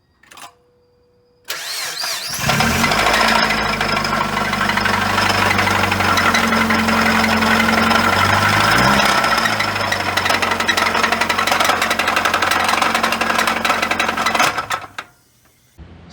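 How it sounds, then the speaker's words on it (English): A blown 1999 Mazda Miata engine with a failed bottom end runs with loud, continuous mechanical clanking and knocking over a rough mid-pitched drone, starting abruptly after a brief quiet moment and cutting off near the end. "I hear a loud clanking noise."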